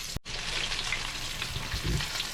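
Butterflied chicken drumsticks fry in a pan just after being flipped, giving a continuous close hiss and crackle with a brief sharp knock near the start.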